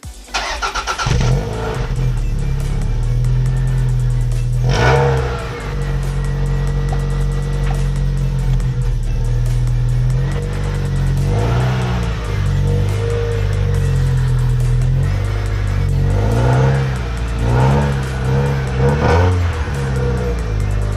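A Toyota MR2 sports car's newly redone exhaust roars and revs repeatedly, loud and close, with deep rumbling idle between sharp throttle blips.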